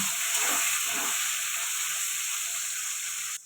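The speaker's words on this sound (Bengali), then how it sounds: "মেন টমেটোটা দিন" Tomato fries in hot oil with onion for a cauliflower, potato and pea curry, giving a loud, continuous sizzle and hiss with a couple of soft stirring bumps early on. The sizzle cuts off abruptly at the end.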